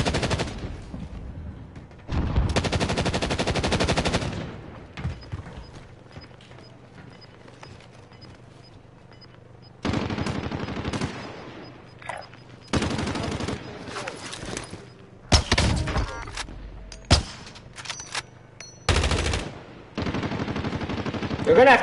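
Sniper rifle gunfire in the Warzone Resurgence video game, several loud separate shots and short bursts spread across the stretch with quiet gaps between them, plus a faint voice now and then.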